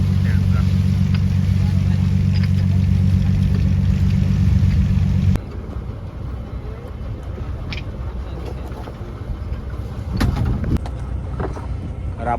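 A fishing boat's engine droning at sea off Satpati near Mumbai, loud and steady with heavy low rumble, easing abruptly partway, then wind and water noise with a person talking.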